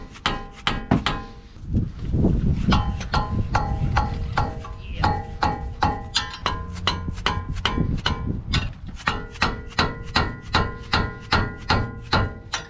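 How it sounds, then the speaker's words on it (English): A hammer strikes a wrench to snug the axle nut during a front wheel bearing and CV axle job on a 4th gen Toyota 4Runner, giving a long run of sharp metallic taps in a steady rhythm, close and loud with no talk. "you're gonna grab your hammer, just put your wrench on it, and get it to the point where it's like pretty snug on there"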